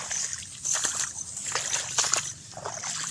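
Water sloshing and splashing in a flooded rice paddy, irregular wet swishes close by, as if stirred by feet or movement through the field.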